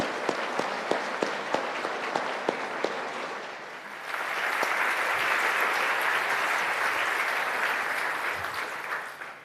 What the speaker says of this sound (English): let us welcome, with a warm round of applause, Gabriela González